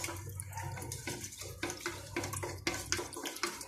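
Cold water is poured and stirred into a seafood and mushroom soup mix in a kitchen, giving a steady close splashing, running-water wash with scattered clinks and sloshes throughout.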